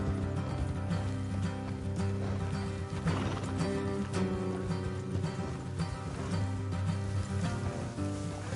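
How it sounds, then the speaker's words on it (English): Horses in the Western video game Red Dead Redemption, with hoof clip-clop and a whinny set inside a busy, continuous game soundscape of music and rumbling noise, steady and fairly loud throughout. "Let's leave the horses here and go the rest on foot."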